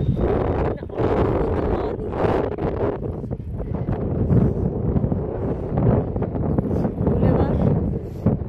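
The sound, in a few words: strong cold wind on Baku boulevard by Caspian Sea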